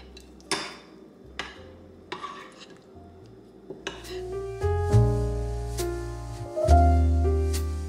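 Cheese being mixed into pasta sauce in the same pot used to boil the pasta: scattered clinks and taps of a utensil against the pot, growing into denser stirring knocks, with music playing underneath.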